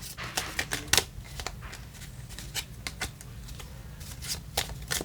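Playing cards being shuffled nearby, a series of quiet, crisp riffling bursts and flicks spaced irregularly over a soft background.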